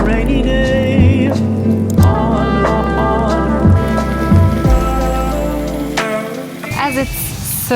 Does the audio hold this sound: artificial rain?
yes